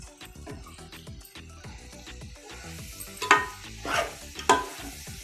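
Amaranth leaves fry in a pan for biryani, a soft crackling sizzle with scattered pops and a few louder stirring scrapes toward the end.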